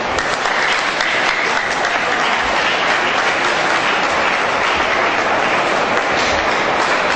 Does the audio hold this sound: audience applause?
yes